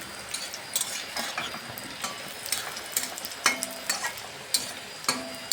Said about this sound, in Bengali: দেখুন, বেগুনটা আমি উল্টে পাল্টে ভেজে নিচ্ছি।